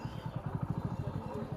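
A motorcycle engine idles nearby with a quick, even chugging pulse under faint background noise.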